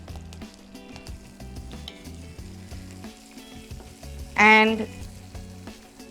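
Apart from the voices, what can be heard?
onions, green chili and curry leaves frying in a pan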